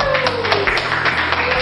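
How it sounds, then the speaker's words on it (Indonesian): Students in a classroom applaud a student group, a short burst of brisk, close clapping over a low room hum. "Ya, beri tepuk tangan buat kelompok"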